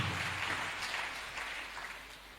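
Congregation applauding in a church, a steady wash of many hands clapping at moderate distance, sustained and slowly fading, with no talk over it.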